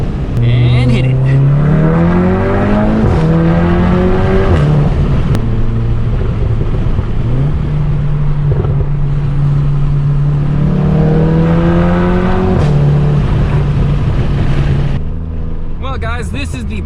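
An APR Stage 2 tuned MK7.5 Volkswagen Golf R accelerates hard along a back road, its engine note rising through the gears in loud, close sweeps with a brief lift between shifts before climbing again.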